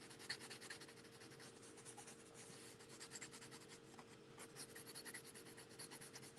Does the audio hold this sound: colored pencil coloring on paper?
yes